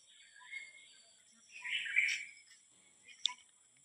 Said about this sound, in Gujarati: પક્ષીઓ કેટલા સુંદર અવાજ કરે છે